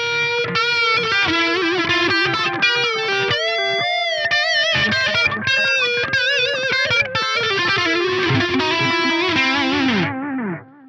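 Electric guitar played through an Axe-Fx III digital delay, a sustained lead line with distorted, effected tone and trailing repeats, loud and continuous, with no talk, then cutting off abruptly near the end.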